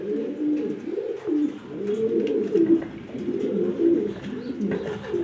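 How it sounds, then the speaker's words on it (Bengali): A big female pigeon at a pigeon exhibition coos repeatedly, a steady run of low, warbling burbles in quick succession, close and prominent with no talk. "কত সুন্দর বিগ সাইজের একটা মাদি কবুতর"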